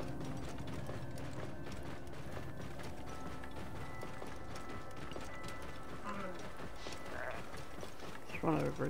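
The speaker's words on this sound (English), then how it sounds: "Wait, why am I riding the camel?" Rhythmic camel hoofbeats while riding through Assassin's Creed Origins clop steadily under dense game sound and mechanical clatter, with a brief voice-like sound near the end.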